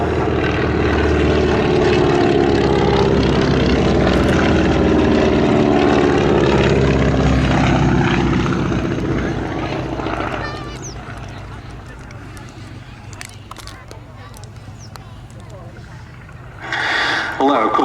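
A 1944 Beechcraft Staggerwing propeller biplane flies at the Duxford summer air show, its loud, rasping engine drone steady at first and then fading into the distance, with a commentator talking over it throughout.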